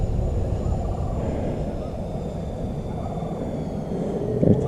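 Engines of a C-130 aircraft at full throttle during touch-and-go flights drone as a steady, loud, broadband roar heard from inside, with faint high tonal whine lines running through it.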